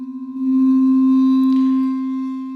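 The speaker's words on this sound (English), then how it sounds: "the default middle C on the marimba sounds like this" Sampled marimba middle C from a free Kontakt instrument at the default sample offset, one sustained tone that swells in after a brief fluttering start and holds steady, loud and clean.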